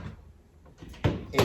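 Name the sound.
door closing with a door anchor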